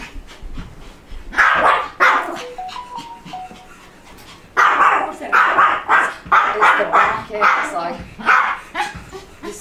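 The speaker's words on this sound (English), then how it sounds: "Nugget, there's a dog right here." A reactive Pomeranian on a walk lets out close, repeated bursts of sharp, high barks and yips, with brief whimpers between the volleys.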